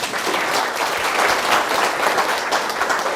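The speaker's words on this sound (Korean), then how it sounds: "박수 한번 쳐주세요." Audience applause at a Korean lecture or screening talk, loud, dense, even clapping from a crowd that holds steady throughout without pauses.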